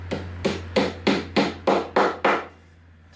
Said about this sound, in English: tap that guy in